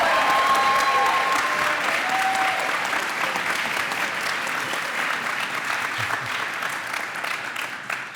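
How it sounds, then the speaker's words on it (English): A concert audience gives a big round of applause for Viren, a young tabla player performing with Sandeep Das and the HUM Ensemble, the clapping loud and dense at first, then thinning gradually over several seconds. "Please give him a big round of applause."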